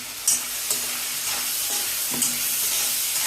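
Turmeric, mustard seeds and cumin fry in a small amount of oil alongside onion and tomato, giving a steady close sizzle with a few sharp spatula scrapes and pops, no talking.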